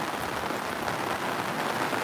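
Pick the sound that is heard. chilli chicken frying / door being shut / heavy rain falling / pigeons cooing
heavy rain falling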